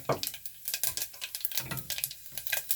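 Cumin seeds sizzle and crackle in hot oil in a pan, close and fairly quiet, with quick irregular pops and light stirring scrapes.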